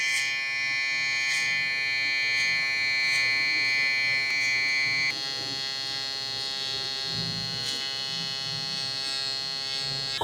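Electric hair clipper buzzing steadily during a blowout taper haircut on curly hair, a close, continuous high-pitched whine whose tone drops slightly midway, with faint handling noise underneath.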